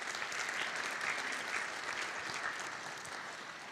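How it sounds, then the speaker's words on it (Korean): Audience applause fills the hall at a university entrance ceremony, a steady burst of clapping from a large crowd that tapers slightly toward the end, with no one speaking. "다시 한번 큰 박수 부탁드립니다."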